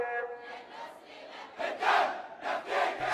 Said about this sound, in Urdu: منامہ کے مضافات میں بھی بھرپور مظاہروں کے دوران حکومت مخالف نعرے لگائے گئے